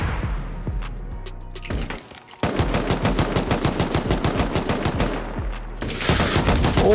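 Automated turrets open fire during a bunker raid in a survival video game, loud rapid bursts of machine-gun fire in long rhythmic strings, a short pause, then another sustained volley, with no talking.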